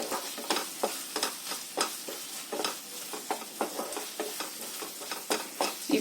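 Pumpkin and carrot halwa stirred in ghee in a pan: a steady run of close scraping, clattering stirring strokes over a soft sizzle, regular and fairly quiet, with no talking.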